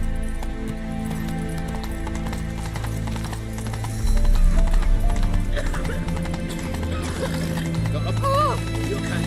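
Roach the horse gallops in The Witcher 3, with steady hoof clip-clops and an occasional whinny. The hooves sit under a dense game soundtrack of music and ambience, and they grow louder and fuller partway through.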